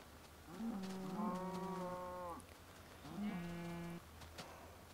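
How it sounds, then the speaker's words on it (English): A farm cow lets out two long, droning moos, the first drawn out and the second shorter, close and clear over steady outdoor background noise. "Hey, cow."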